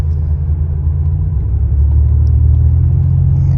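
An abandoned one-owner, 32,000-mile turbo Buick Grand National with flat-spotted tires runs under its own power, giving a steady, loud, close engine rumble that holds throughout with no voices.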